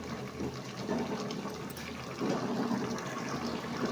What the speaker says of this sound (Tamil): இப்போ நல்லா கொதிச்சு வெந்துட்டுருக்கு.